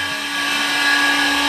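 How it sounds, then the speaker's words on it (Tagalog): A high-pitched power drill boring out a TMX155 motorcycle engine cylinder whines steadily and loudly up close, running continuously without a break. "paluwangin na muna natin to gamit ang barena at syempre pang court na bala"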